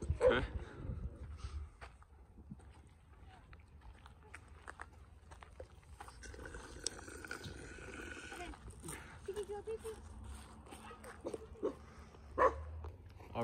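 A dog barks at a campsite, with a few scattered yips and barks fairly near amid outdoor noise and people talking.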